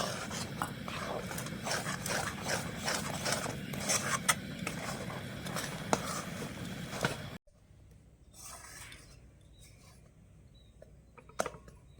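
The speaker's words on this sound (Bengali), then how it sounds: "এবার আমি এখানে দিয়ে দিচ্ছি এক কাপ চালের গুঁড়ো চালের গুঁড়োটা ভালো করে মিশিয়ে নেব" Rice flour stirred into melted jaggery in a pan gives a continuous close scraping and rasping of the spoon against the pan for several seconds. It then drops to quiet, with a few faint scrapes afterward.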